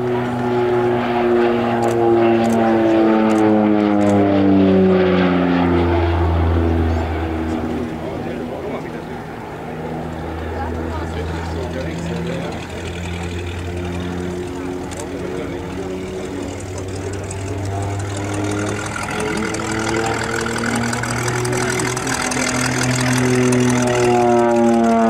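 North American Rockwell OV-10B Bronco twin-turboprop at an airshow, its propellers and engines droning steadily with shifting harmonic tones throughout, loud and close, with a voice speaking over it.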